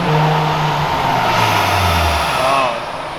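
A car engine held at full throttle yet restricted in power drones loudly and close, its pitch sliding down and flattening instead of climbing, then easing off toward the end.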